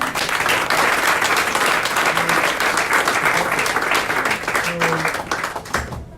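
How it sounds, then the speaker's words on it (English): An audience applauds a congressman at a Capitol Hill celebration of Artsakh freedom, dense steady clapping filling the room for about six seconds, with a few voices faintly audible underneath. "I want your rounds of applause to Congressman Poulon."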